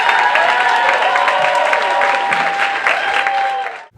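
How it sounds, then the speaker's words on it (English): A student government presidential debate audience breaks into loud, sustained applause close by, a dense wash of clapping that holds steady for several seconds before fading out abruptly. "so please give them a big round of applause"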